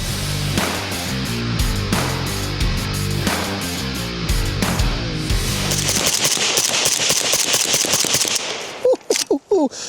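Suppressed AK rifle fitted with a Zastava ZVUK suppressor, firing long rapid strings of loud muffled shots for several seconds, then a few separate last reports.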